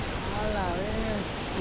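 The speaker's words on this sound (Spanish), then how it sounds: "Pero qué hermosa es la cascada." A waterfall in a natural park setting gives a continuous broad roar of falling water, steady and moderately distant, with faint voices mixed in.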